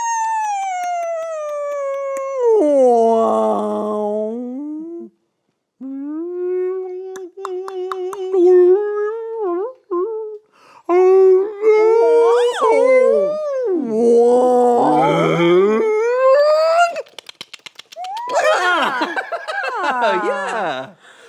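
A human voice imitates whale calls with long, sliding howls, moans and squeaky rising whistles, loud and close, in several phrases separated by short pauses.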